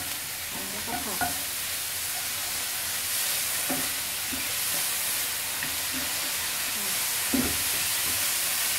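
Ingredients for pork ball rad na stir-fried in a hot pan: a steady sizzle and hiss runs throughout, broken by a few scraping strokes of the spatula.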